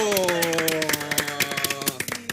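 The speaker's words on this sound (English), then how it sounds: "Ladies and gentlemen, please let's welcome with a round of applause." A studio audience gives a short round of applause, individual claps sharp and close, overlapping with a sustained musical tone and a voice beneath.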